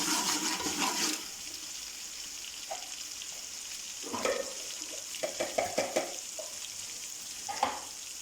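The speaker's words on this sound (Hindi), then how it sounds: "इसमें मैंने ये अदरक और लहसुन को मैंने चॉप कर लिया है, ये डाल देते हैं। अब इन्हें ब्राउन कर लेते हैं।" Chopped ginger and garlic fry in a pan until browned, starting with a loud hissing sizzle that settles into softer, steady frying with occasional spatula scrapes and clinks, close and without talk.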